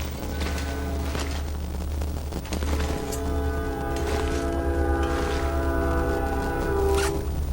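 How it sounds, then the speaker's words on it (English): A train passes on nearby railroad tracks, heard as a continuous loud rumble with sustained horn-like tones and scattered clanks and screeches running throughout. "you might hear in the background, have a train going."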